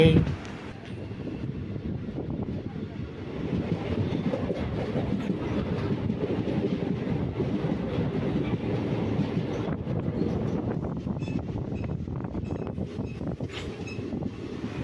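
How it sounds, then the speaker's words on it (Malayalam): A train running on rails approaching Paravur railway station in Kerala, housed in a 1918 British-era building, a loud continuous rumble with rhythmic clickety-clack and wind buffeting, close throughout with no speech. "വലത്തെ സൈഡിൽ ഒരു ട്രെയിൻ പോകുന്നുണ്ടോ ഇത് നമ്മുടെ ട്രെയിൻ"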